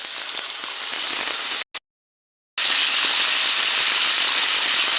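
Water poured into hot oil with frying spices in a pan, a loud hissing sizzle that cuts out briefly to silence for about a second, then returns strong and continuous.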